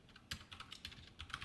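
Rapid keystrokes on a computer keyboard while entering C code, a close, crisp run of uneven clicks with short pauses between bursts.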